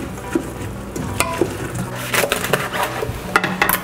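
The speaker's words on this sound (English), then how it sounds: "Now I'm gonna add 1 leek that is trimmed and chopped up." Chopped, trimmed leek tumbles into a pot of Tuscan ribollita soup and is stirred with a wooden spoon, giving crackly scraping and a light sizzle at close range, with no talking.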